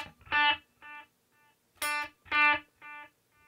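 An electric guitar runs through a delay effect on a Headrush pedalboard, with short picked phrases whose repeats echo and trail away between gaps of near silence, played alone.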